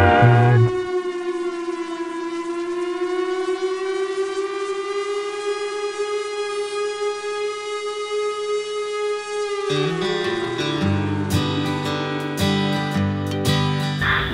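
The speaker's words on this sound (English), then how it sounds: "It was an air raid siren during the Cold War" A loud Chrysler Cold War-era air raid siren holds a long, steady wailing tone, then shifts abruptly into a harsher, rising and falling sound.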